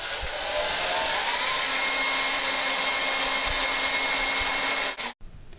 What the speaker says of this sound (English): see if when we apply heat from our hair dryer